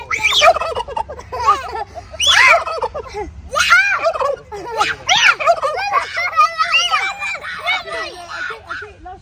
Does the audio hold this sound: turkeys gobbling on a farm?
yes